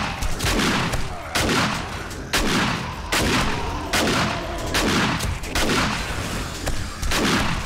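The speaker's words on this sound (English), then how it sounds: "Shotgun's doing work." A shotgun fires repeatedly in the survival video game 7 Days to Die, Undead Legacy mod: about ten loud, booming blasts at a steady rhythm of less than a second apart, each followed by a short decay.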